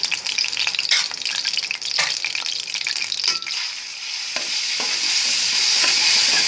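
Garlic, ginger and green chilli paste with homemade biryani spice powder stirred in a pan, with bright scraping spoon strokes over a dense sizzle that smooths into a steady hiss toward the end.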